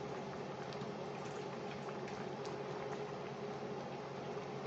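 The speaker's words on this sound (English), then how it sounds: "So we want it simmering," A stew of pig's feet and chickpeas simmers in a pot, bubbling with a soft, steady patter that goes on without a break and stays quiet, with no voices over it.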